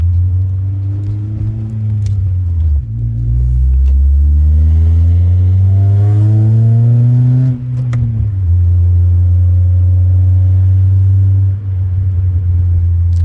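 A car with a full aftermarket exhaust revs loud and close, the deep engine note rising and falling through several pulls with a throaty low rumble, no voices over it.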